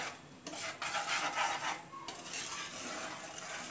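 A metal whisk beats a fondue mixture of cheese and cream in a pot, giving a steady, close scraping and rasping that runs continuously with a few brighter swells.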